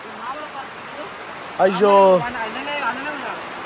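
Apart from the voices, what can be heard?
heavy rain pouring down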